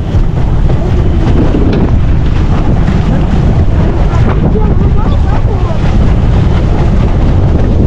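Steady, heavy wind roars and buffets the microphone throughout, with a low churning rumble like a small boat out on open water.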